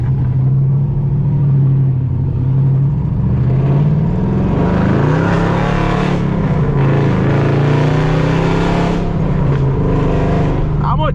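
A loud 500-horsepower car drives around schools, its engine rumbling steadily close by with exhaust pops and crackles rising through the middle of the run.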